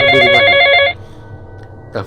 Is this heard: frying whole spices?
no